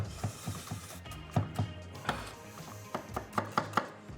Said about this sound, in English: just crying because I'm cutting the onion